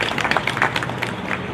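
Applause for a councilwoman at an LGBTQIA+ flag raising ceremony in East Orange, a modest scatter of clapping from a small outdoor crowd, brief and fading.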